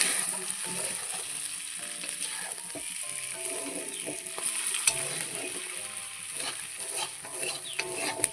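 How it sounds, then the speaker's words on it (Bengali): Pakal fish (eel) being fried in a spiced masala in a pan, a steady close sizzle with crackling and scraping stirs throughout, no talk. "এবারে হালকা করে ভেজে রেখেছিলাম পাকাল মাছগুলো, সেগুলো কিন্তু এই মশলার উপরেই দিয়ে দেবো।"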